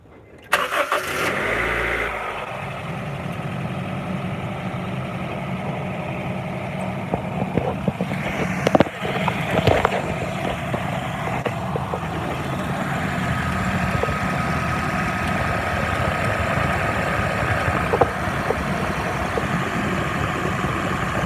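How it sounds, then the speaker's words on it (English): A crash-damaged Honda CR-V engine cranks and catches after a short start, then settles into a steady, continuous idle for the rest of the stretch, with no talk over it. "I'm going to turn the car on real quick and show you what I saw."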